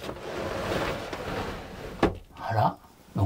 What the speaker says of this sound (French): je vais refermer la porte